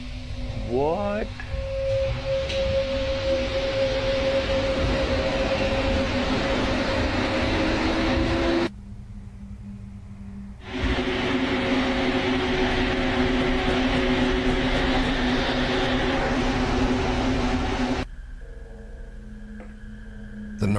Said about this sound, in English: the subway train suddenly stops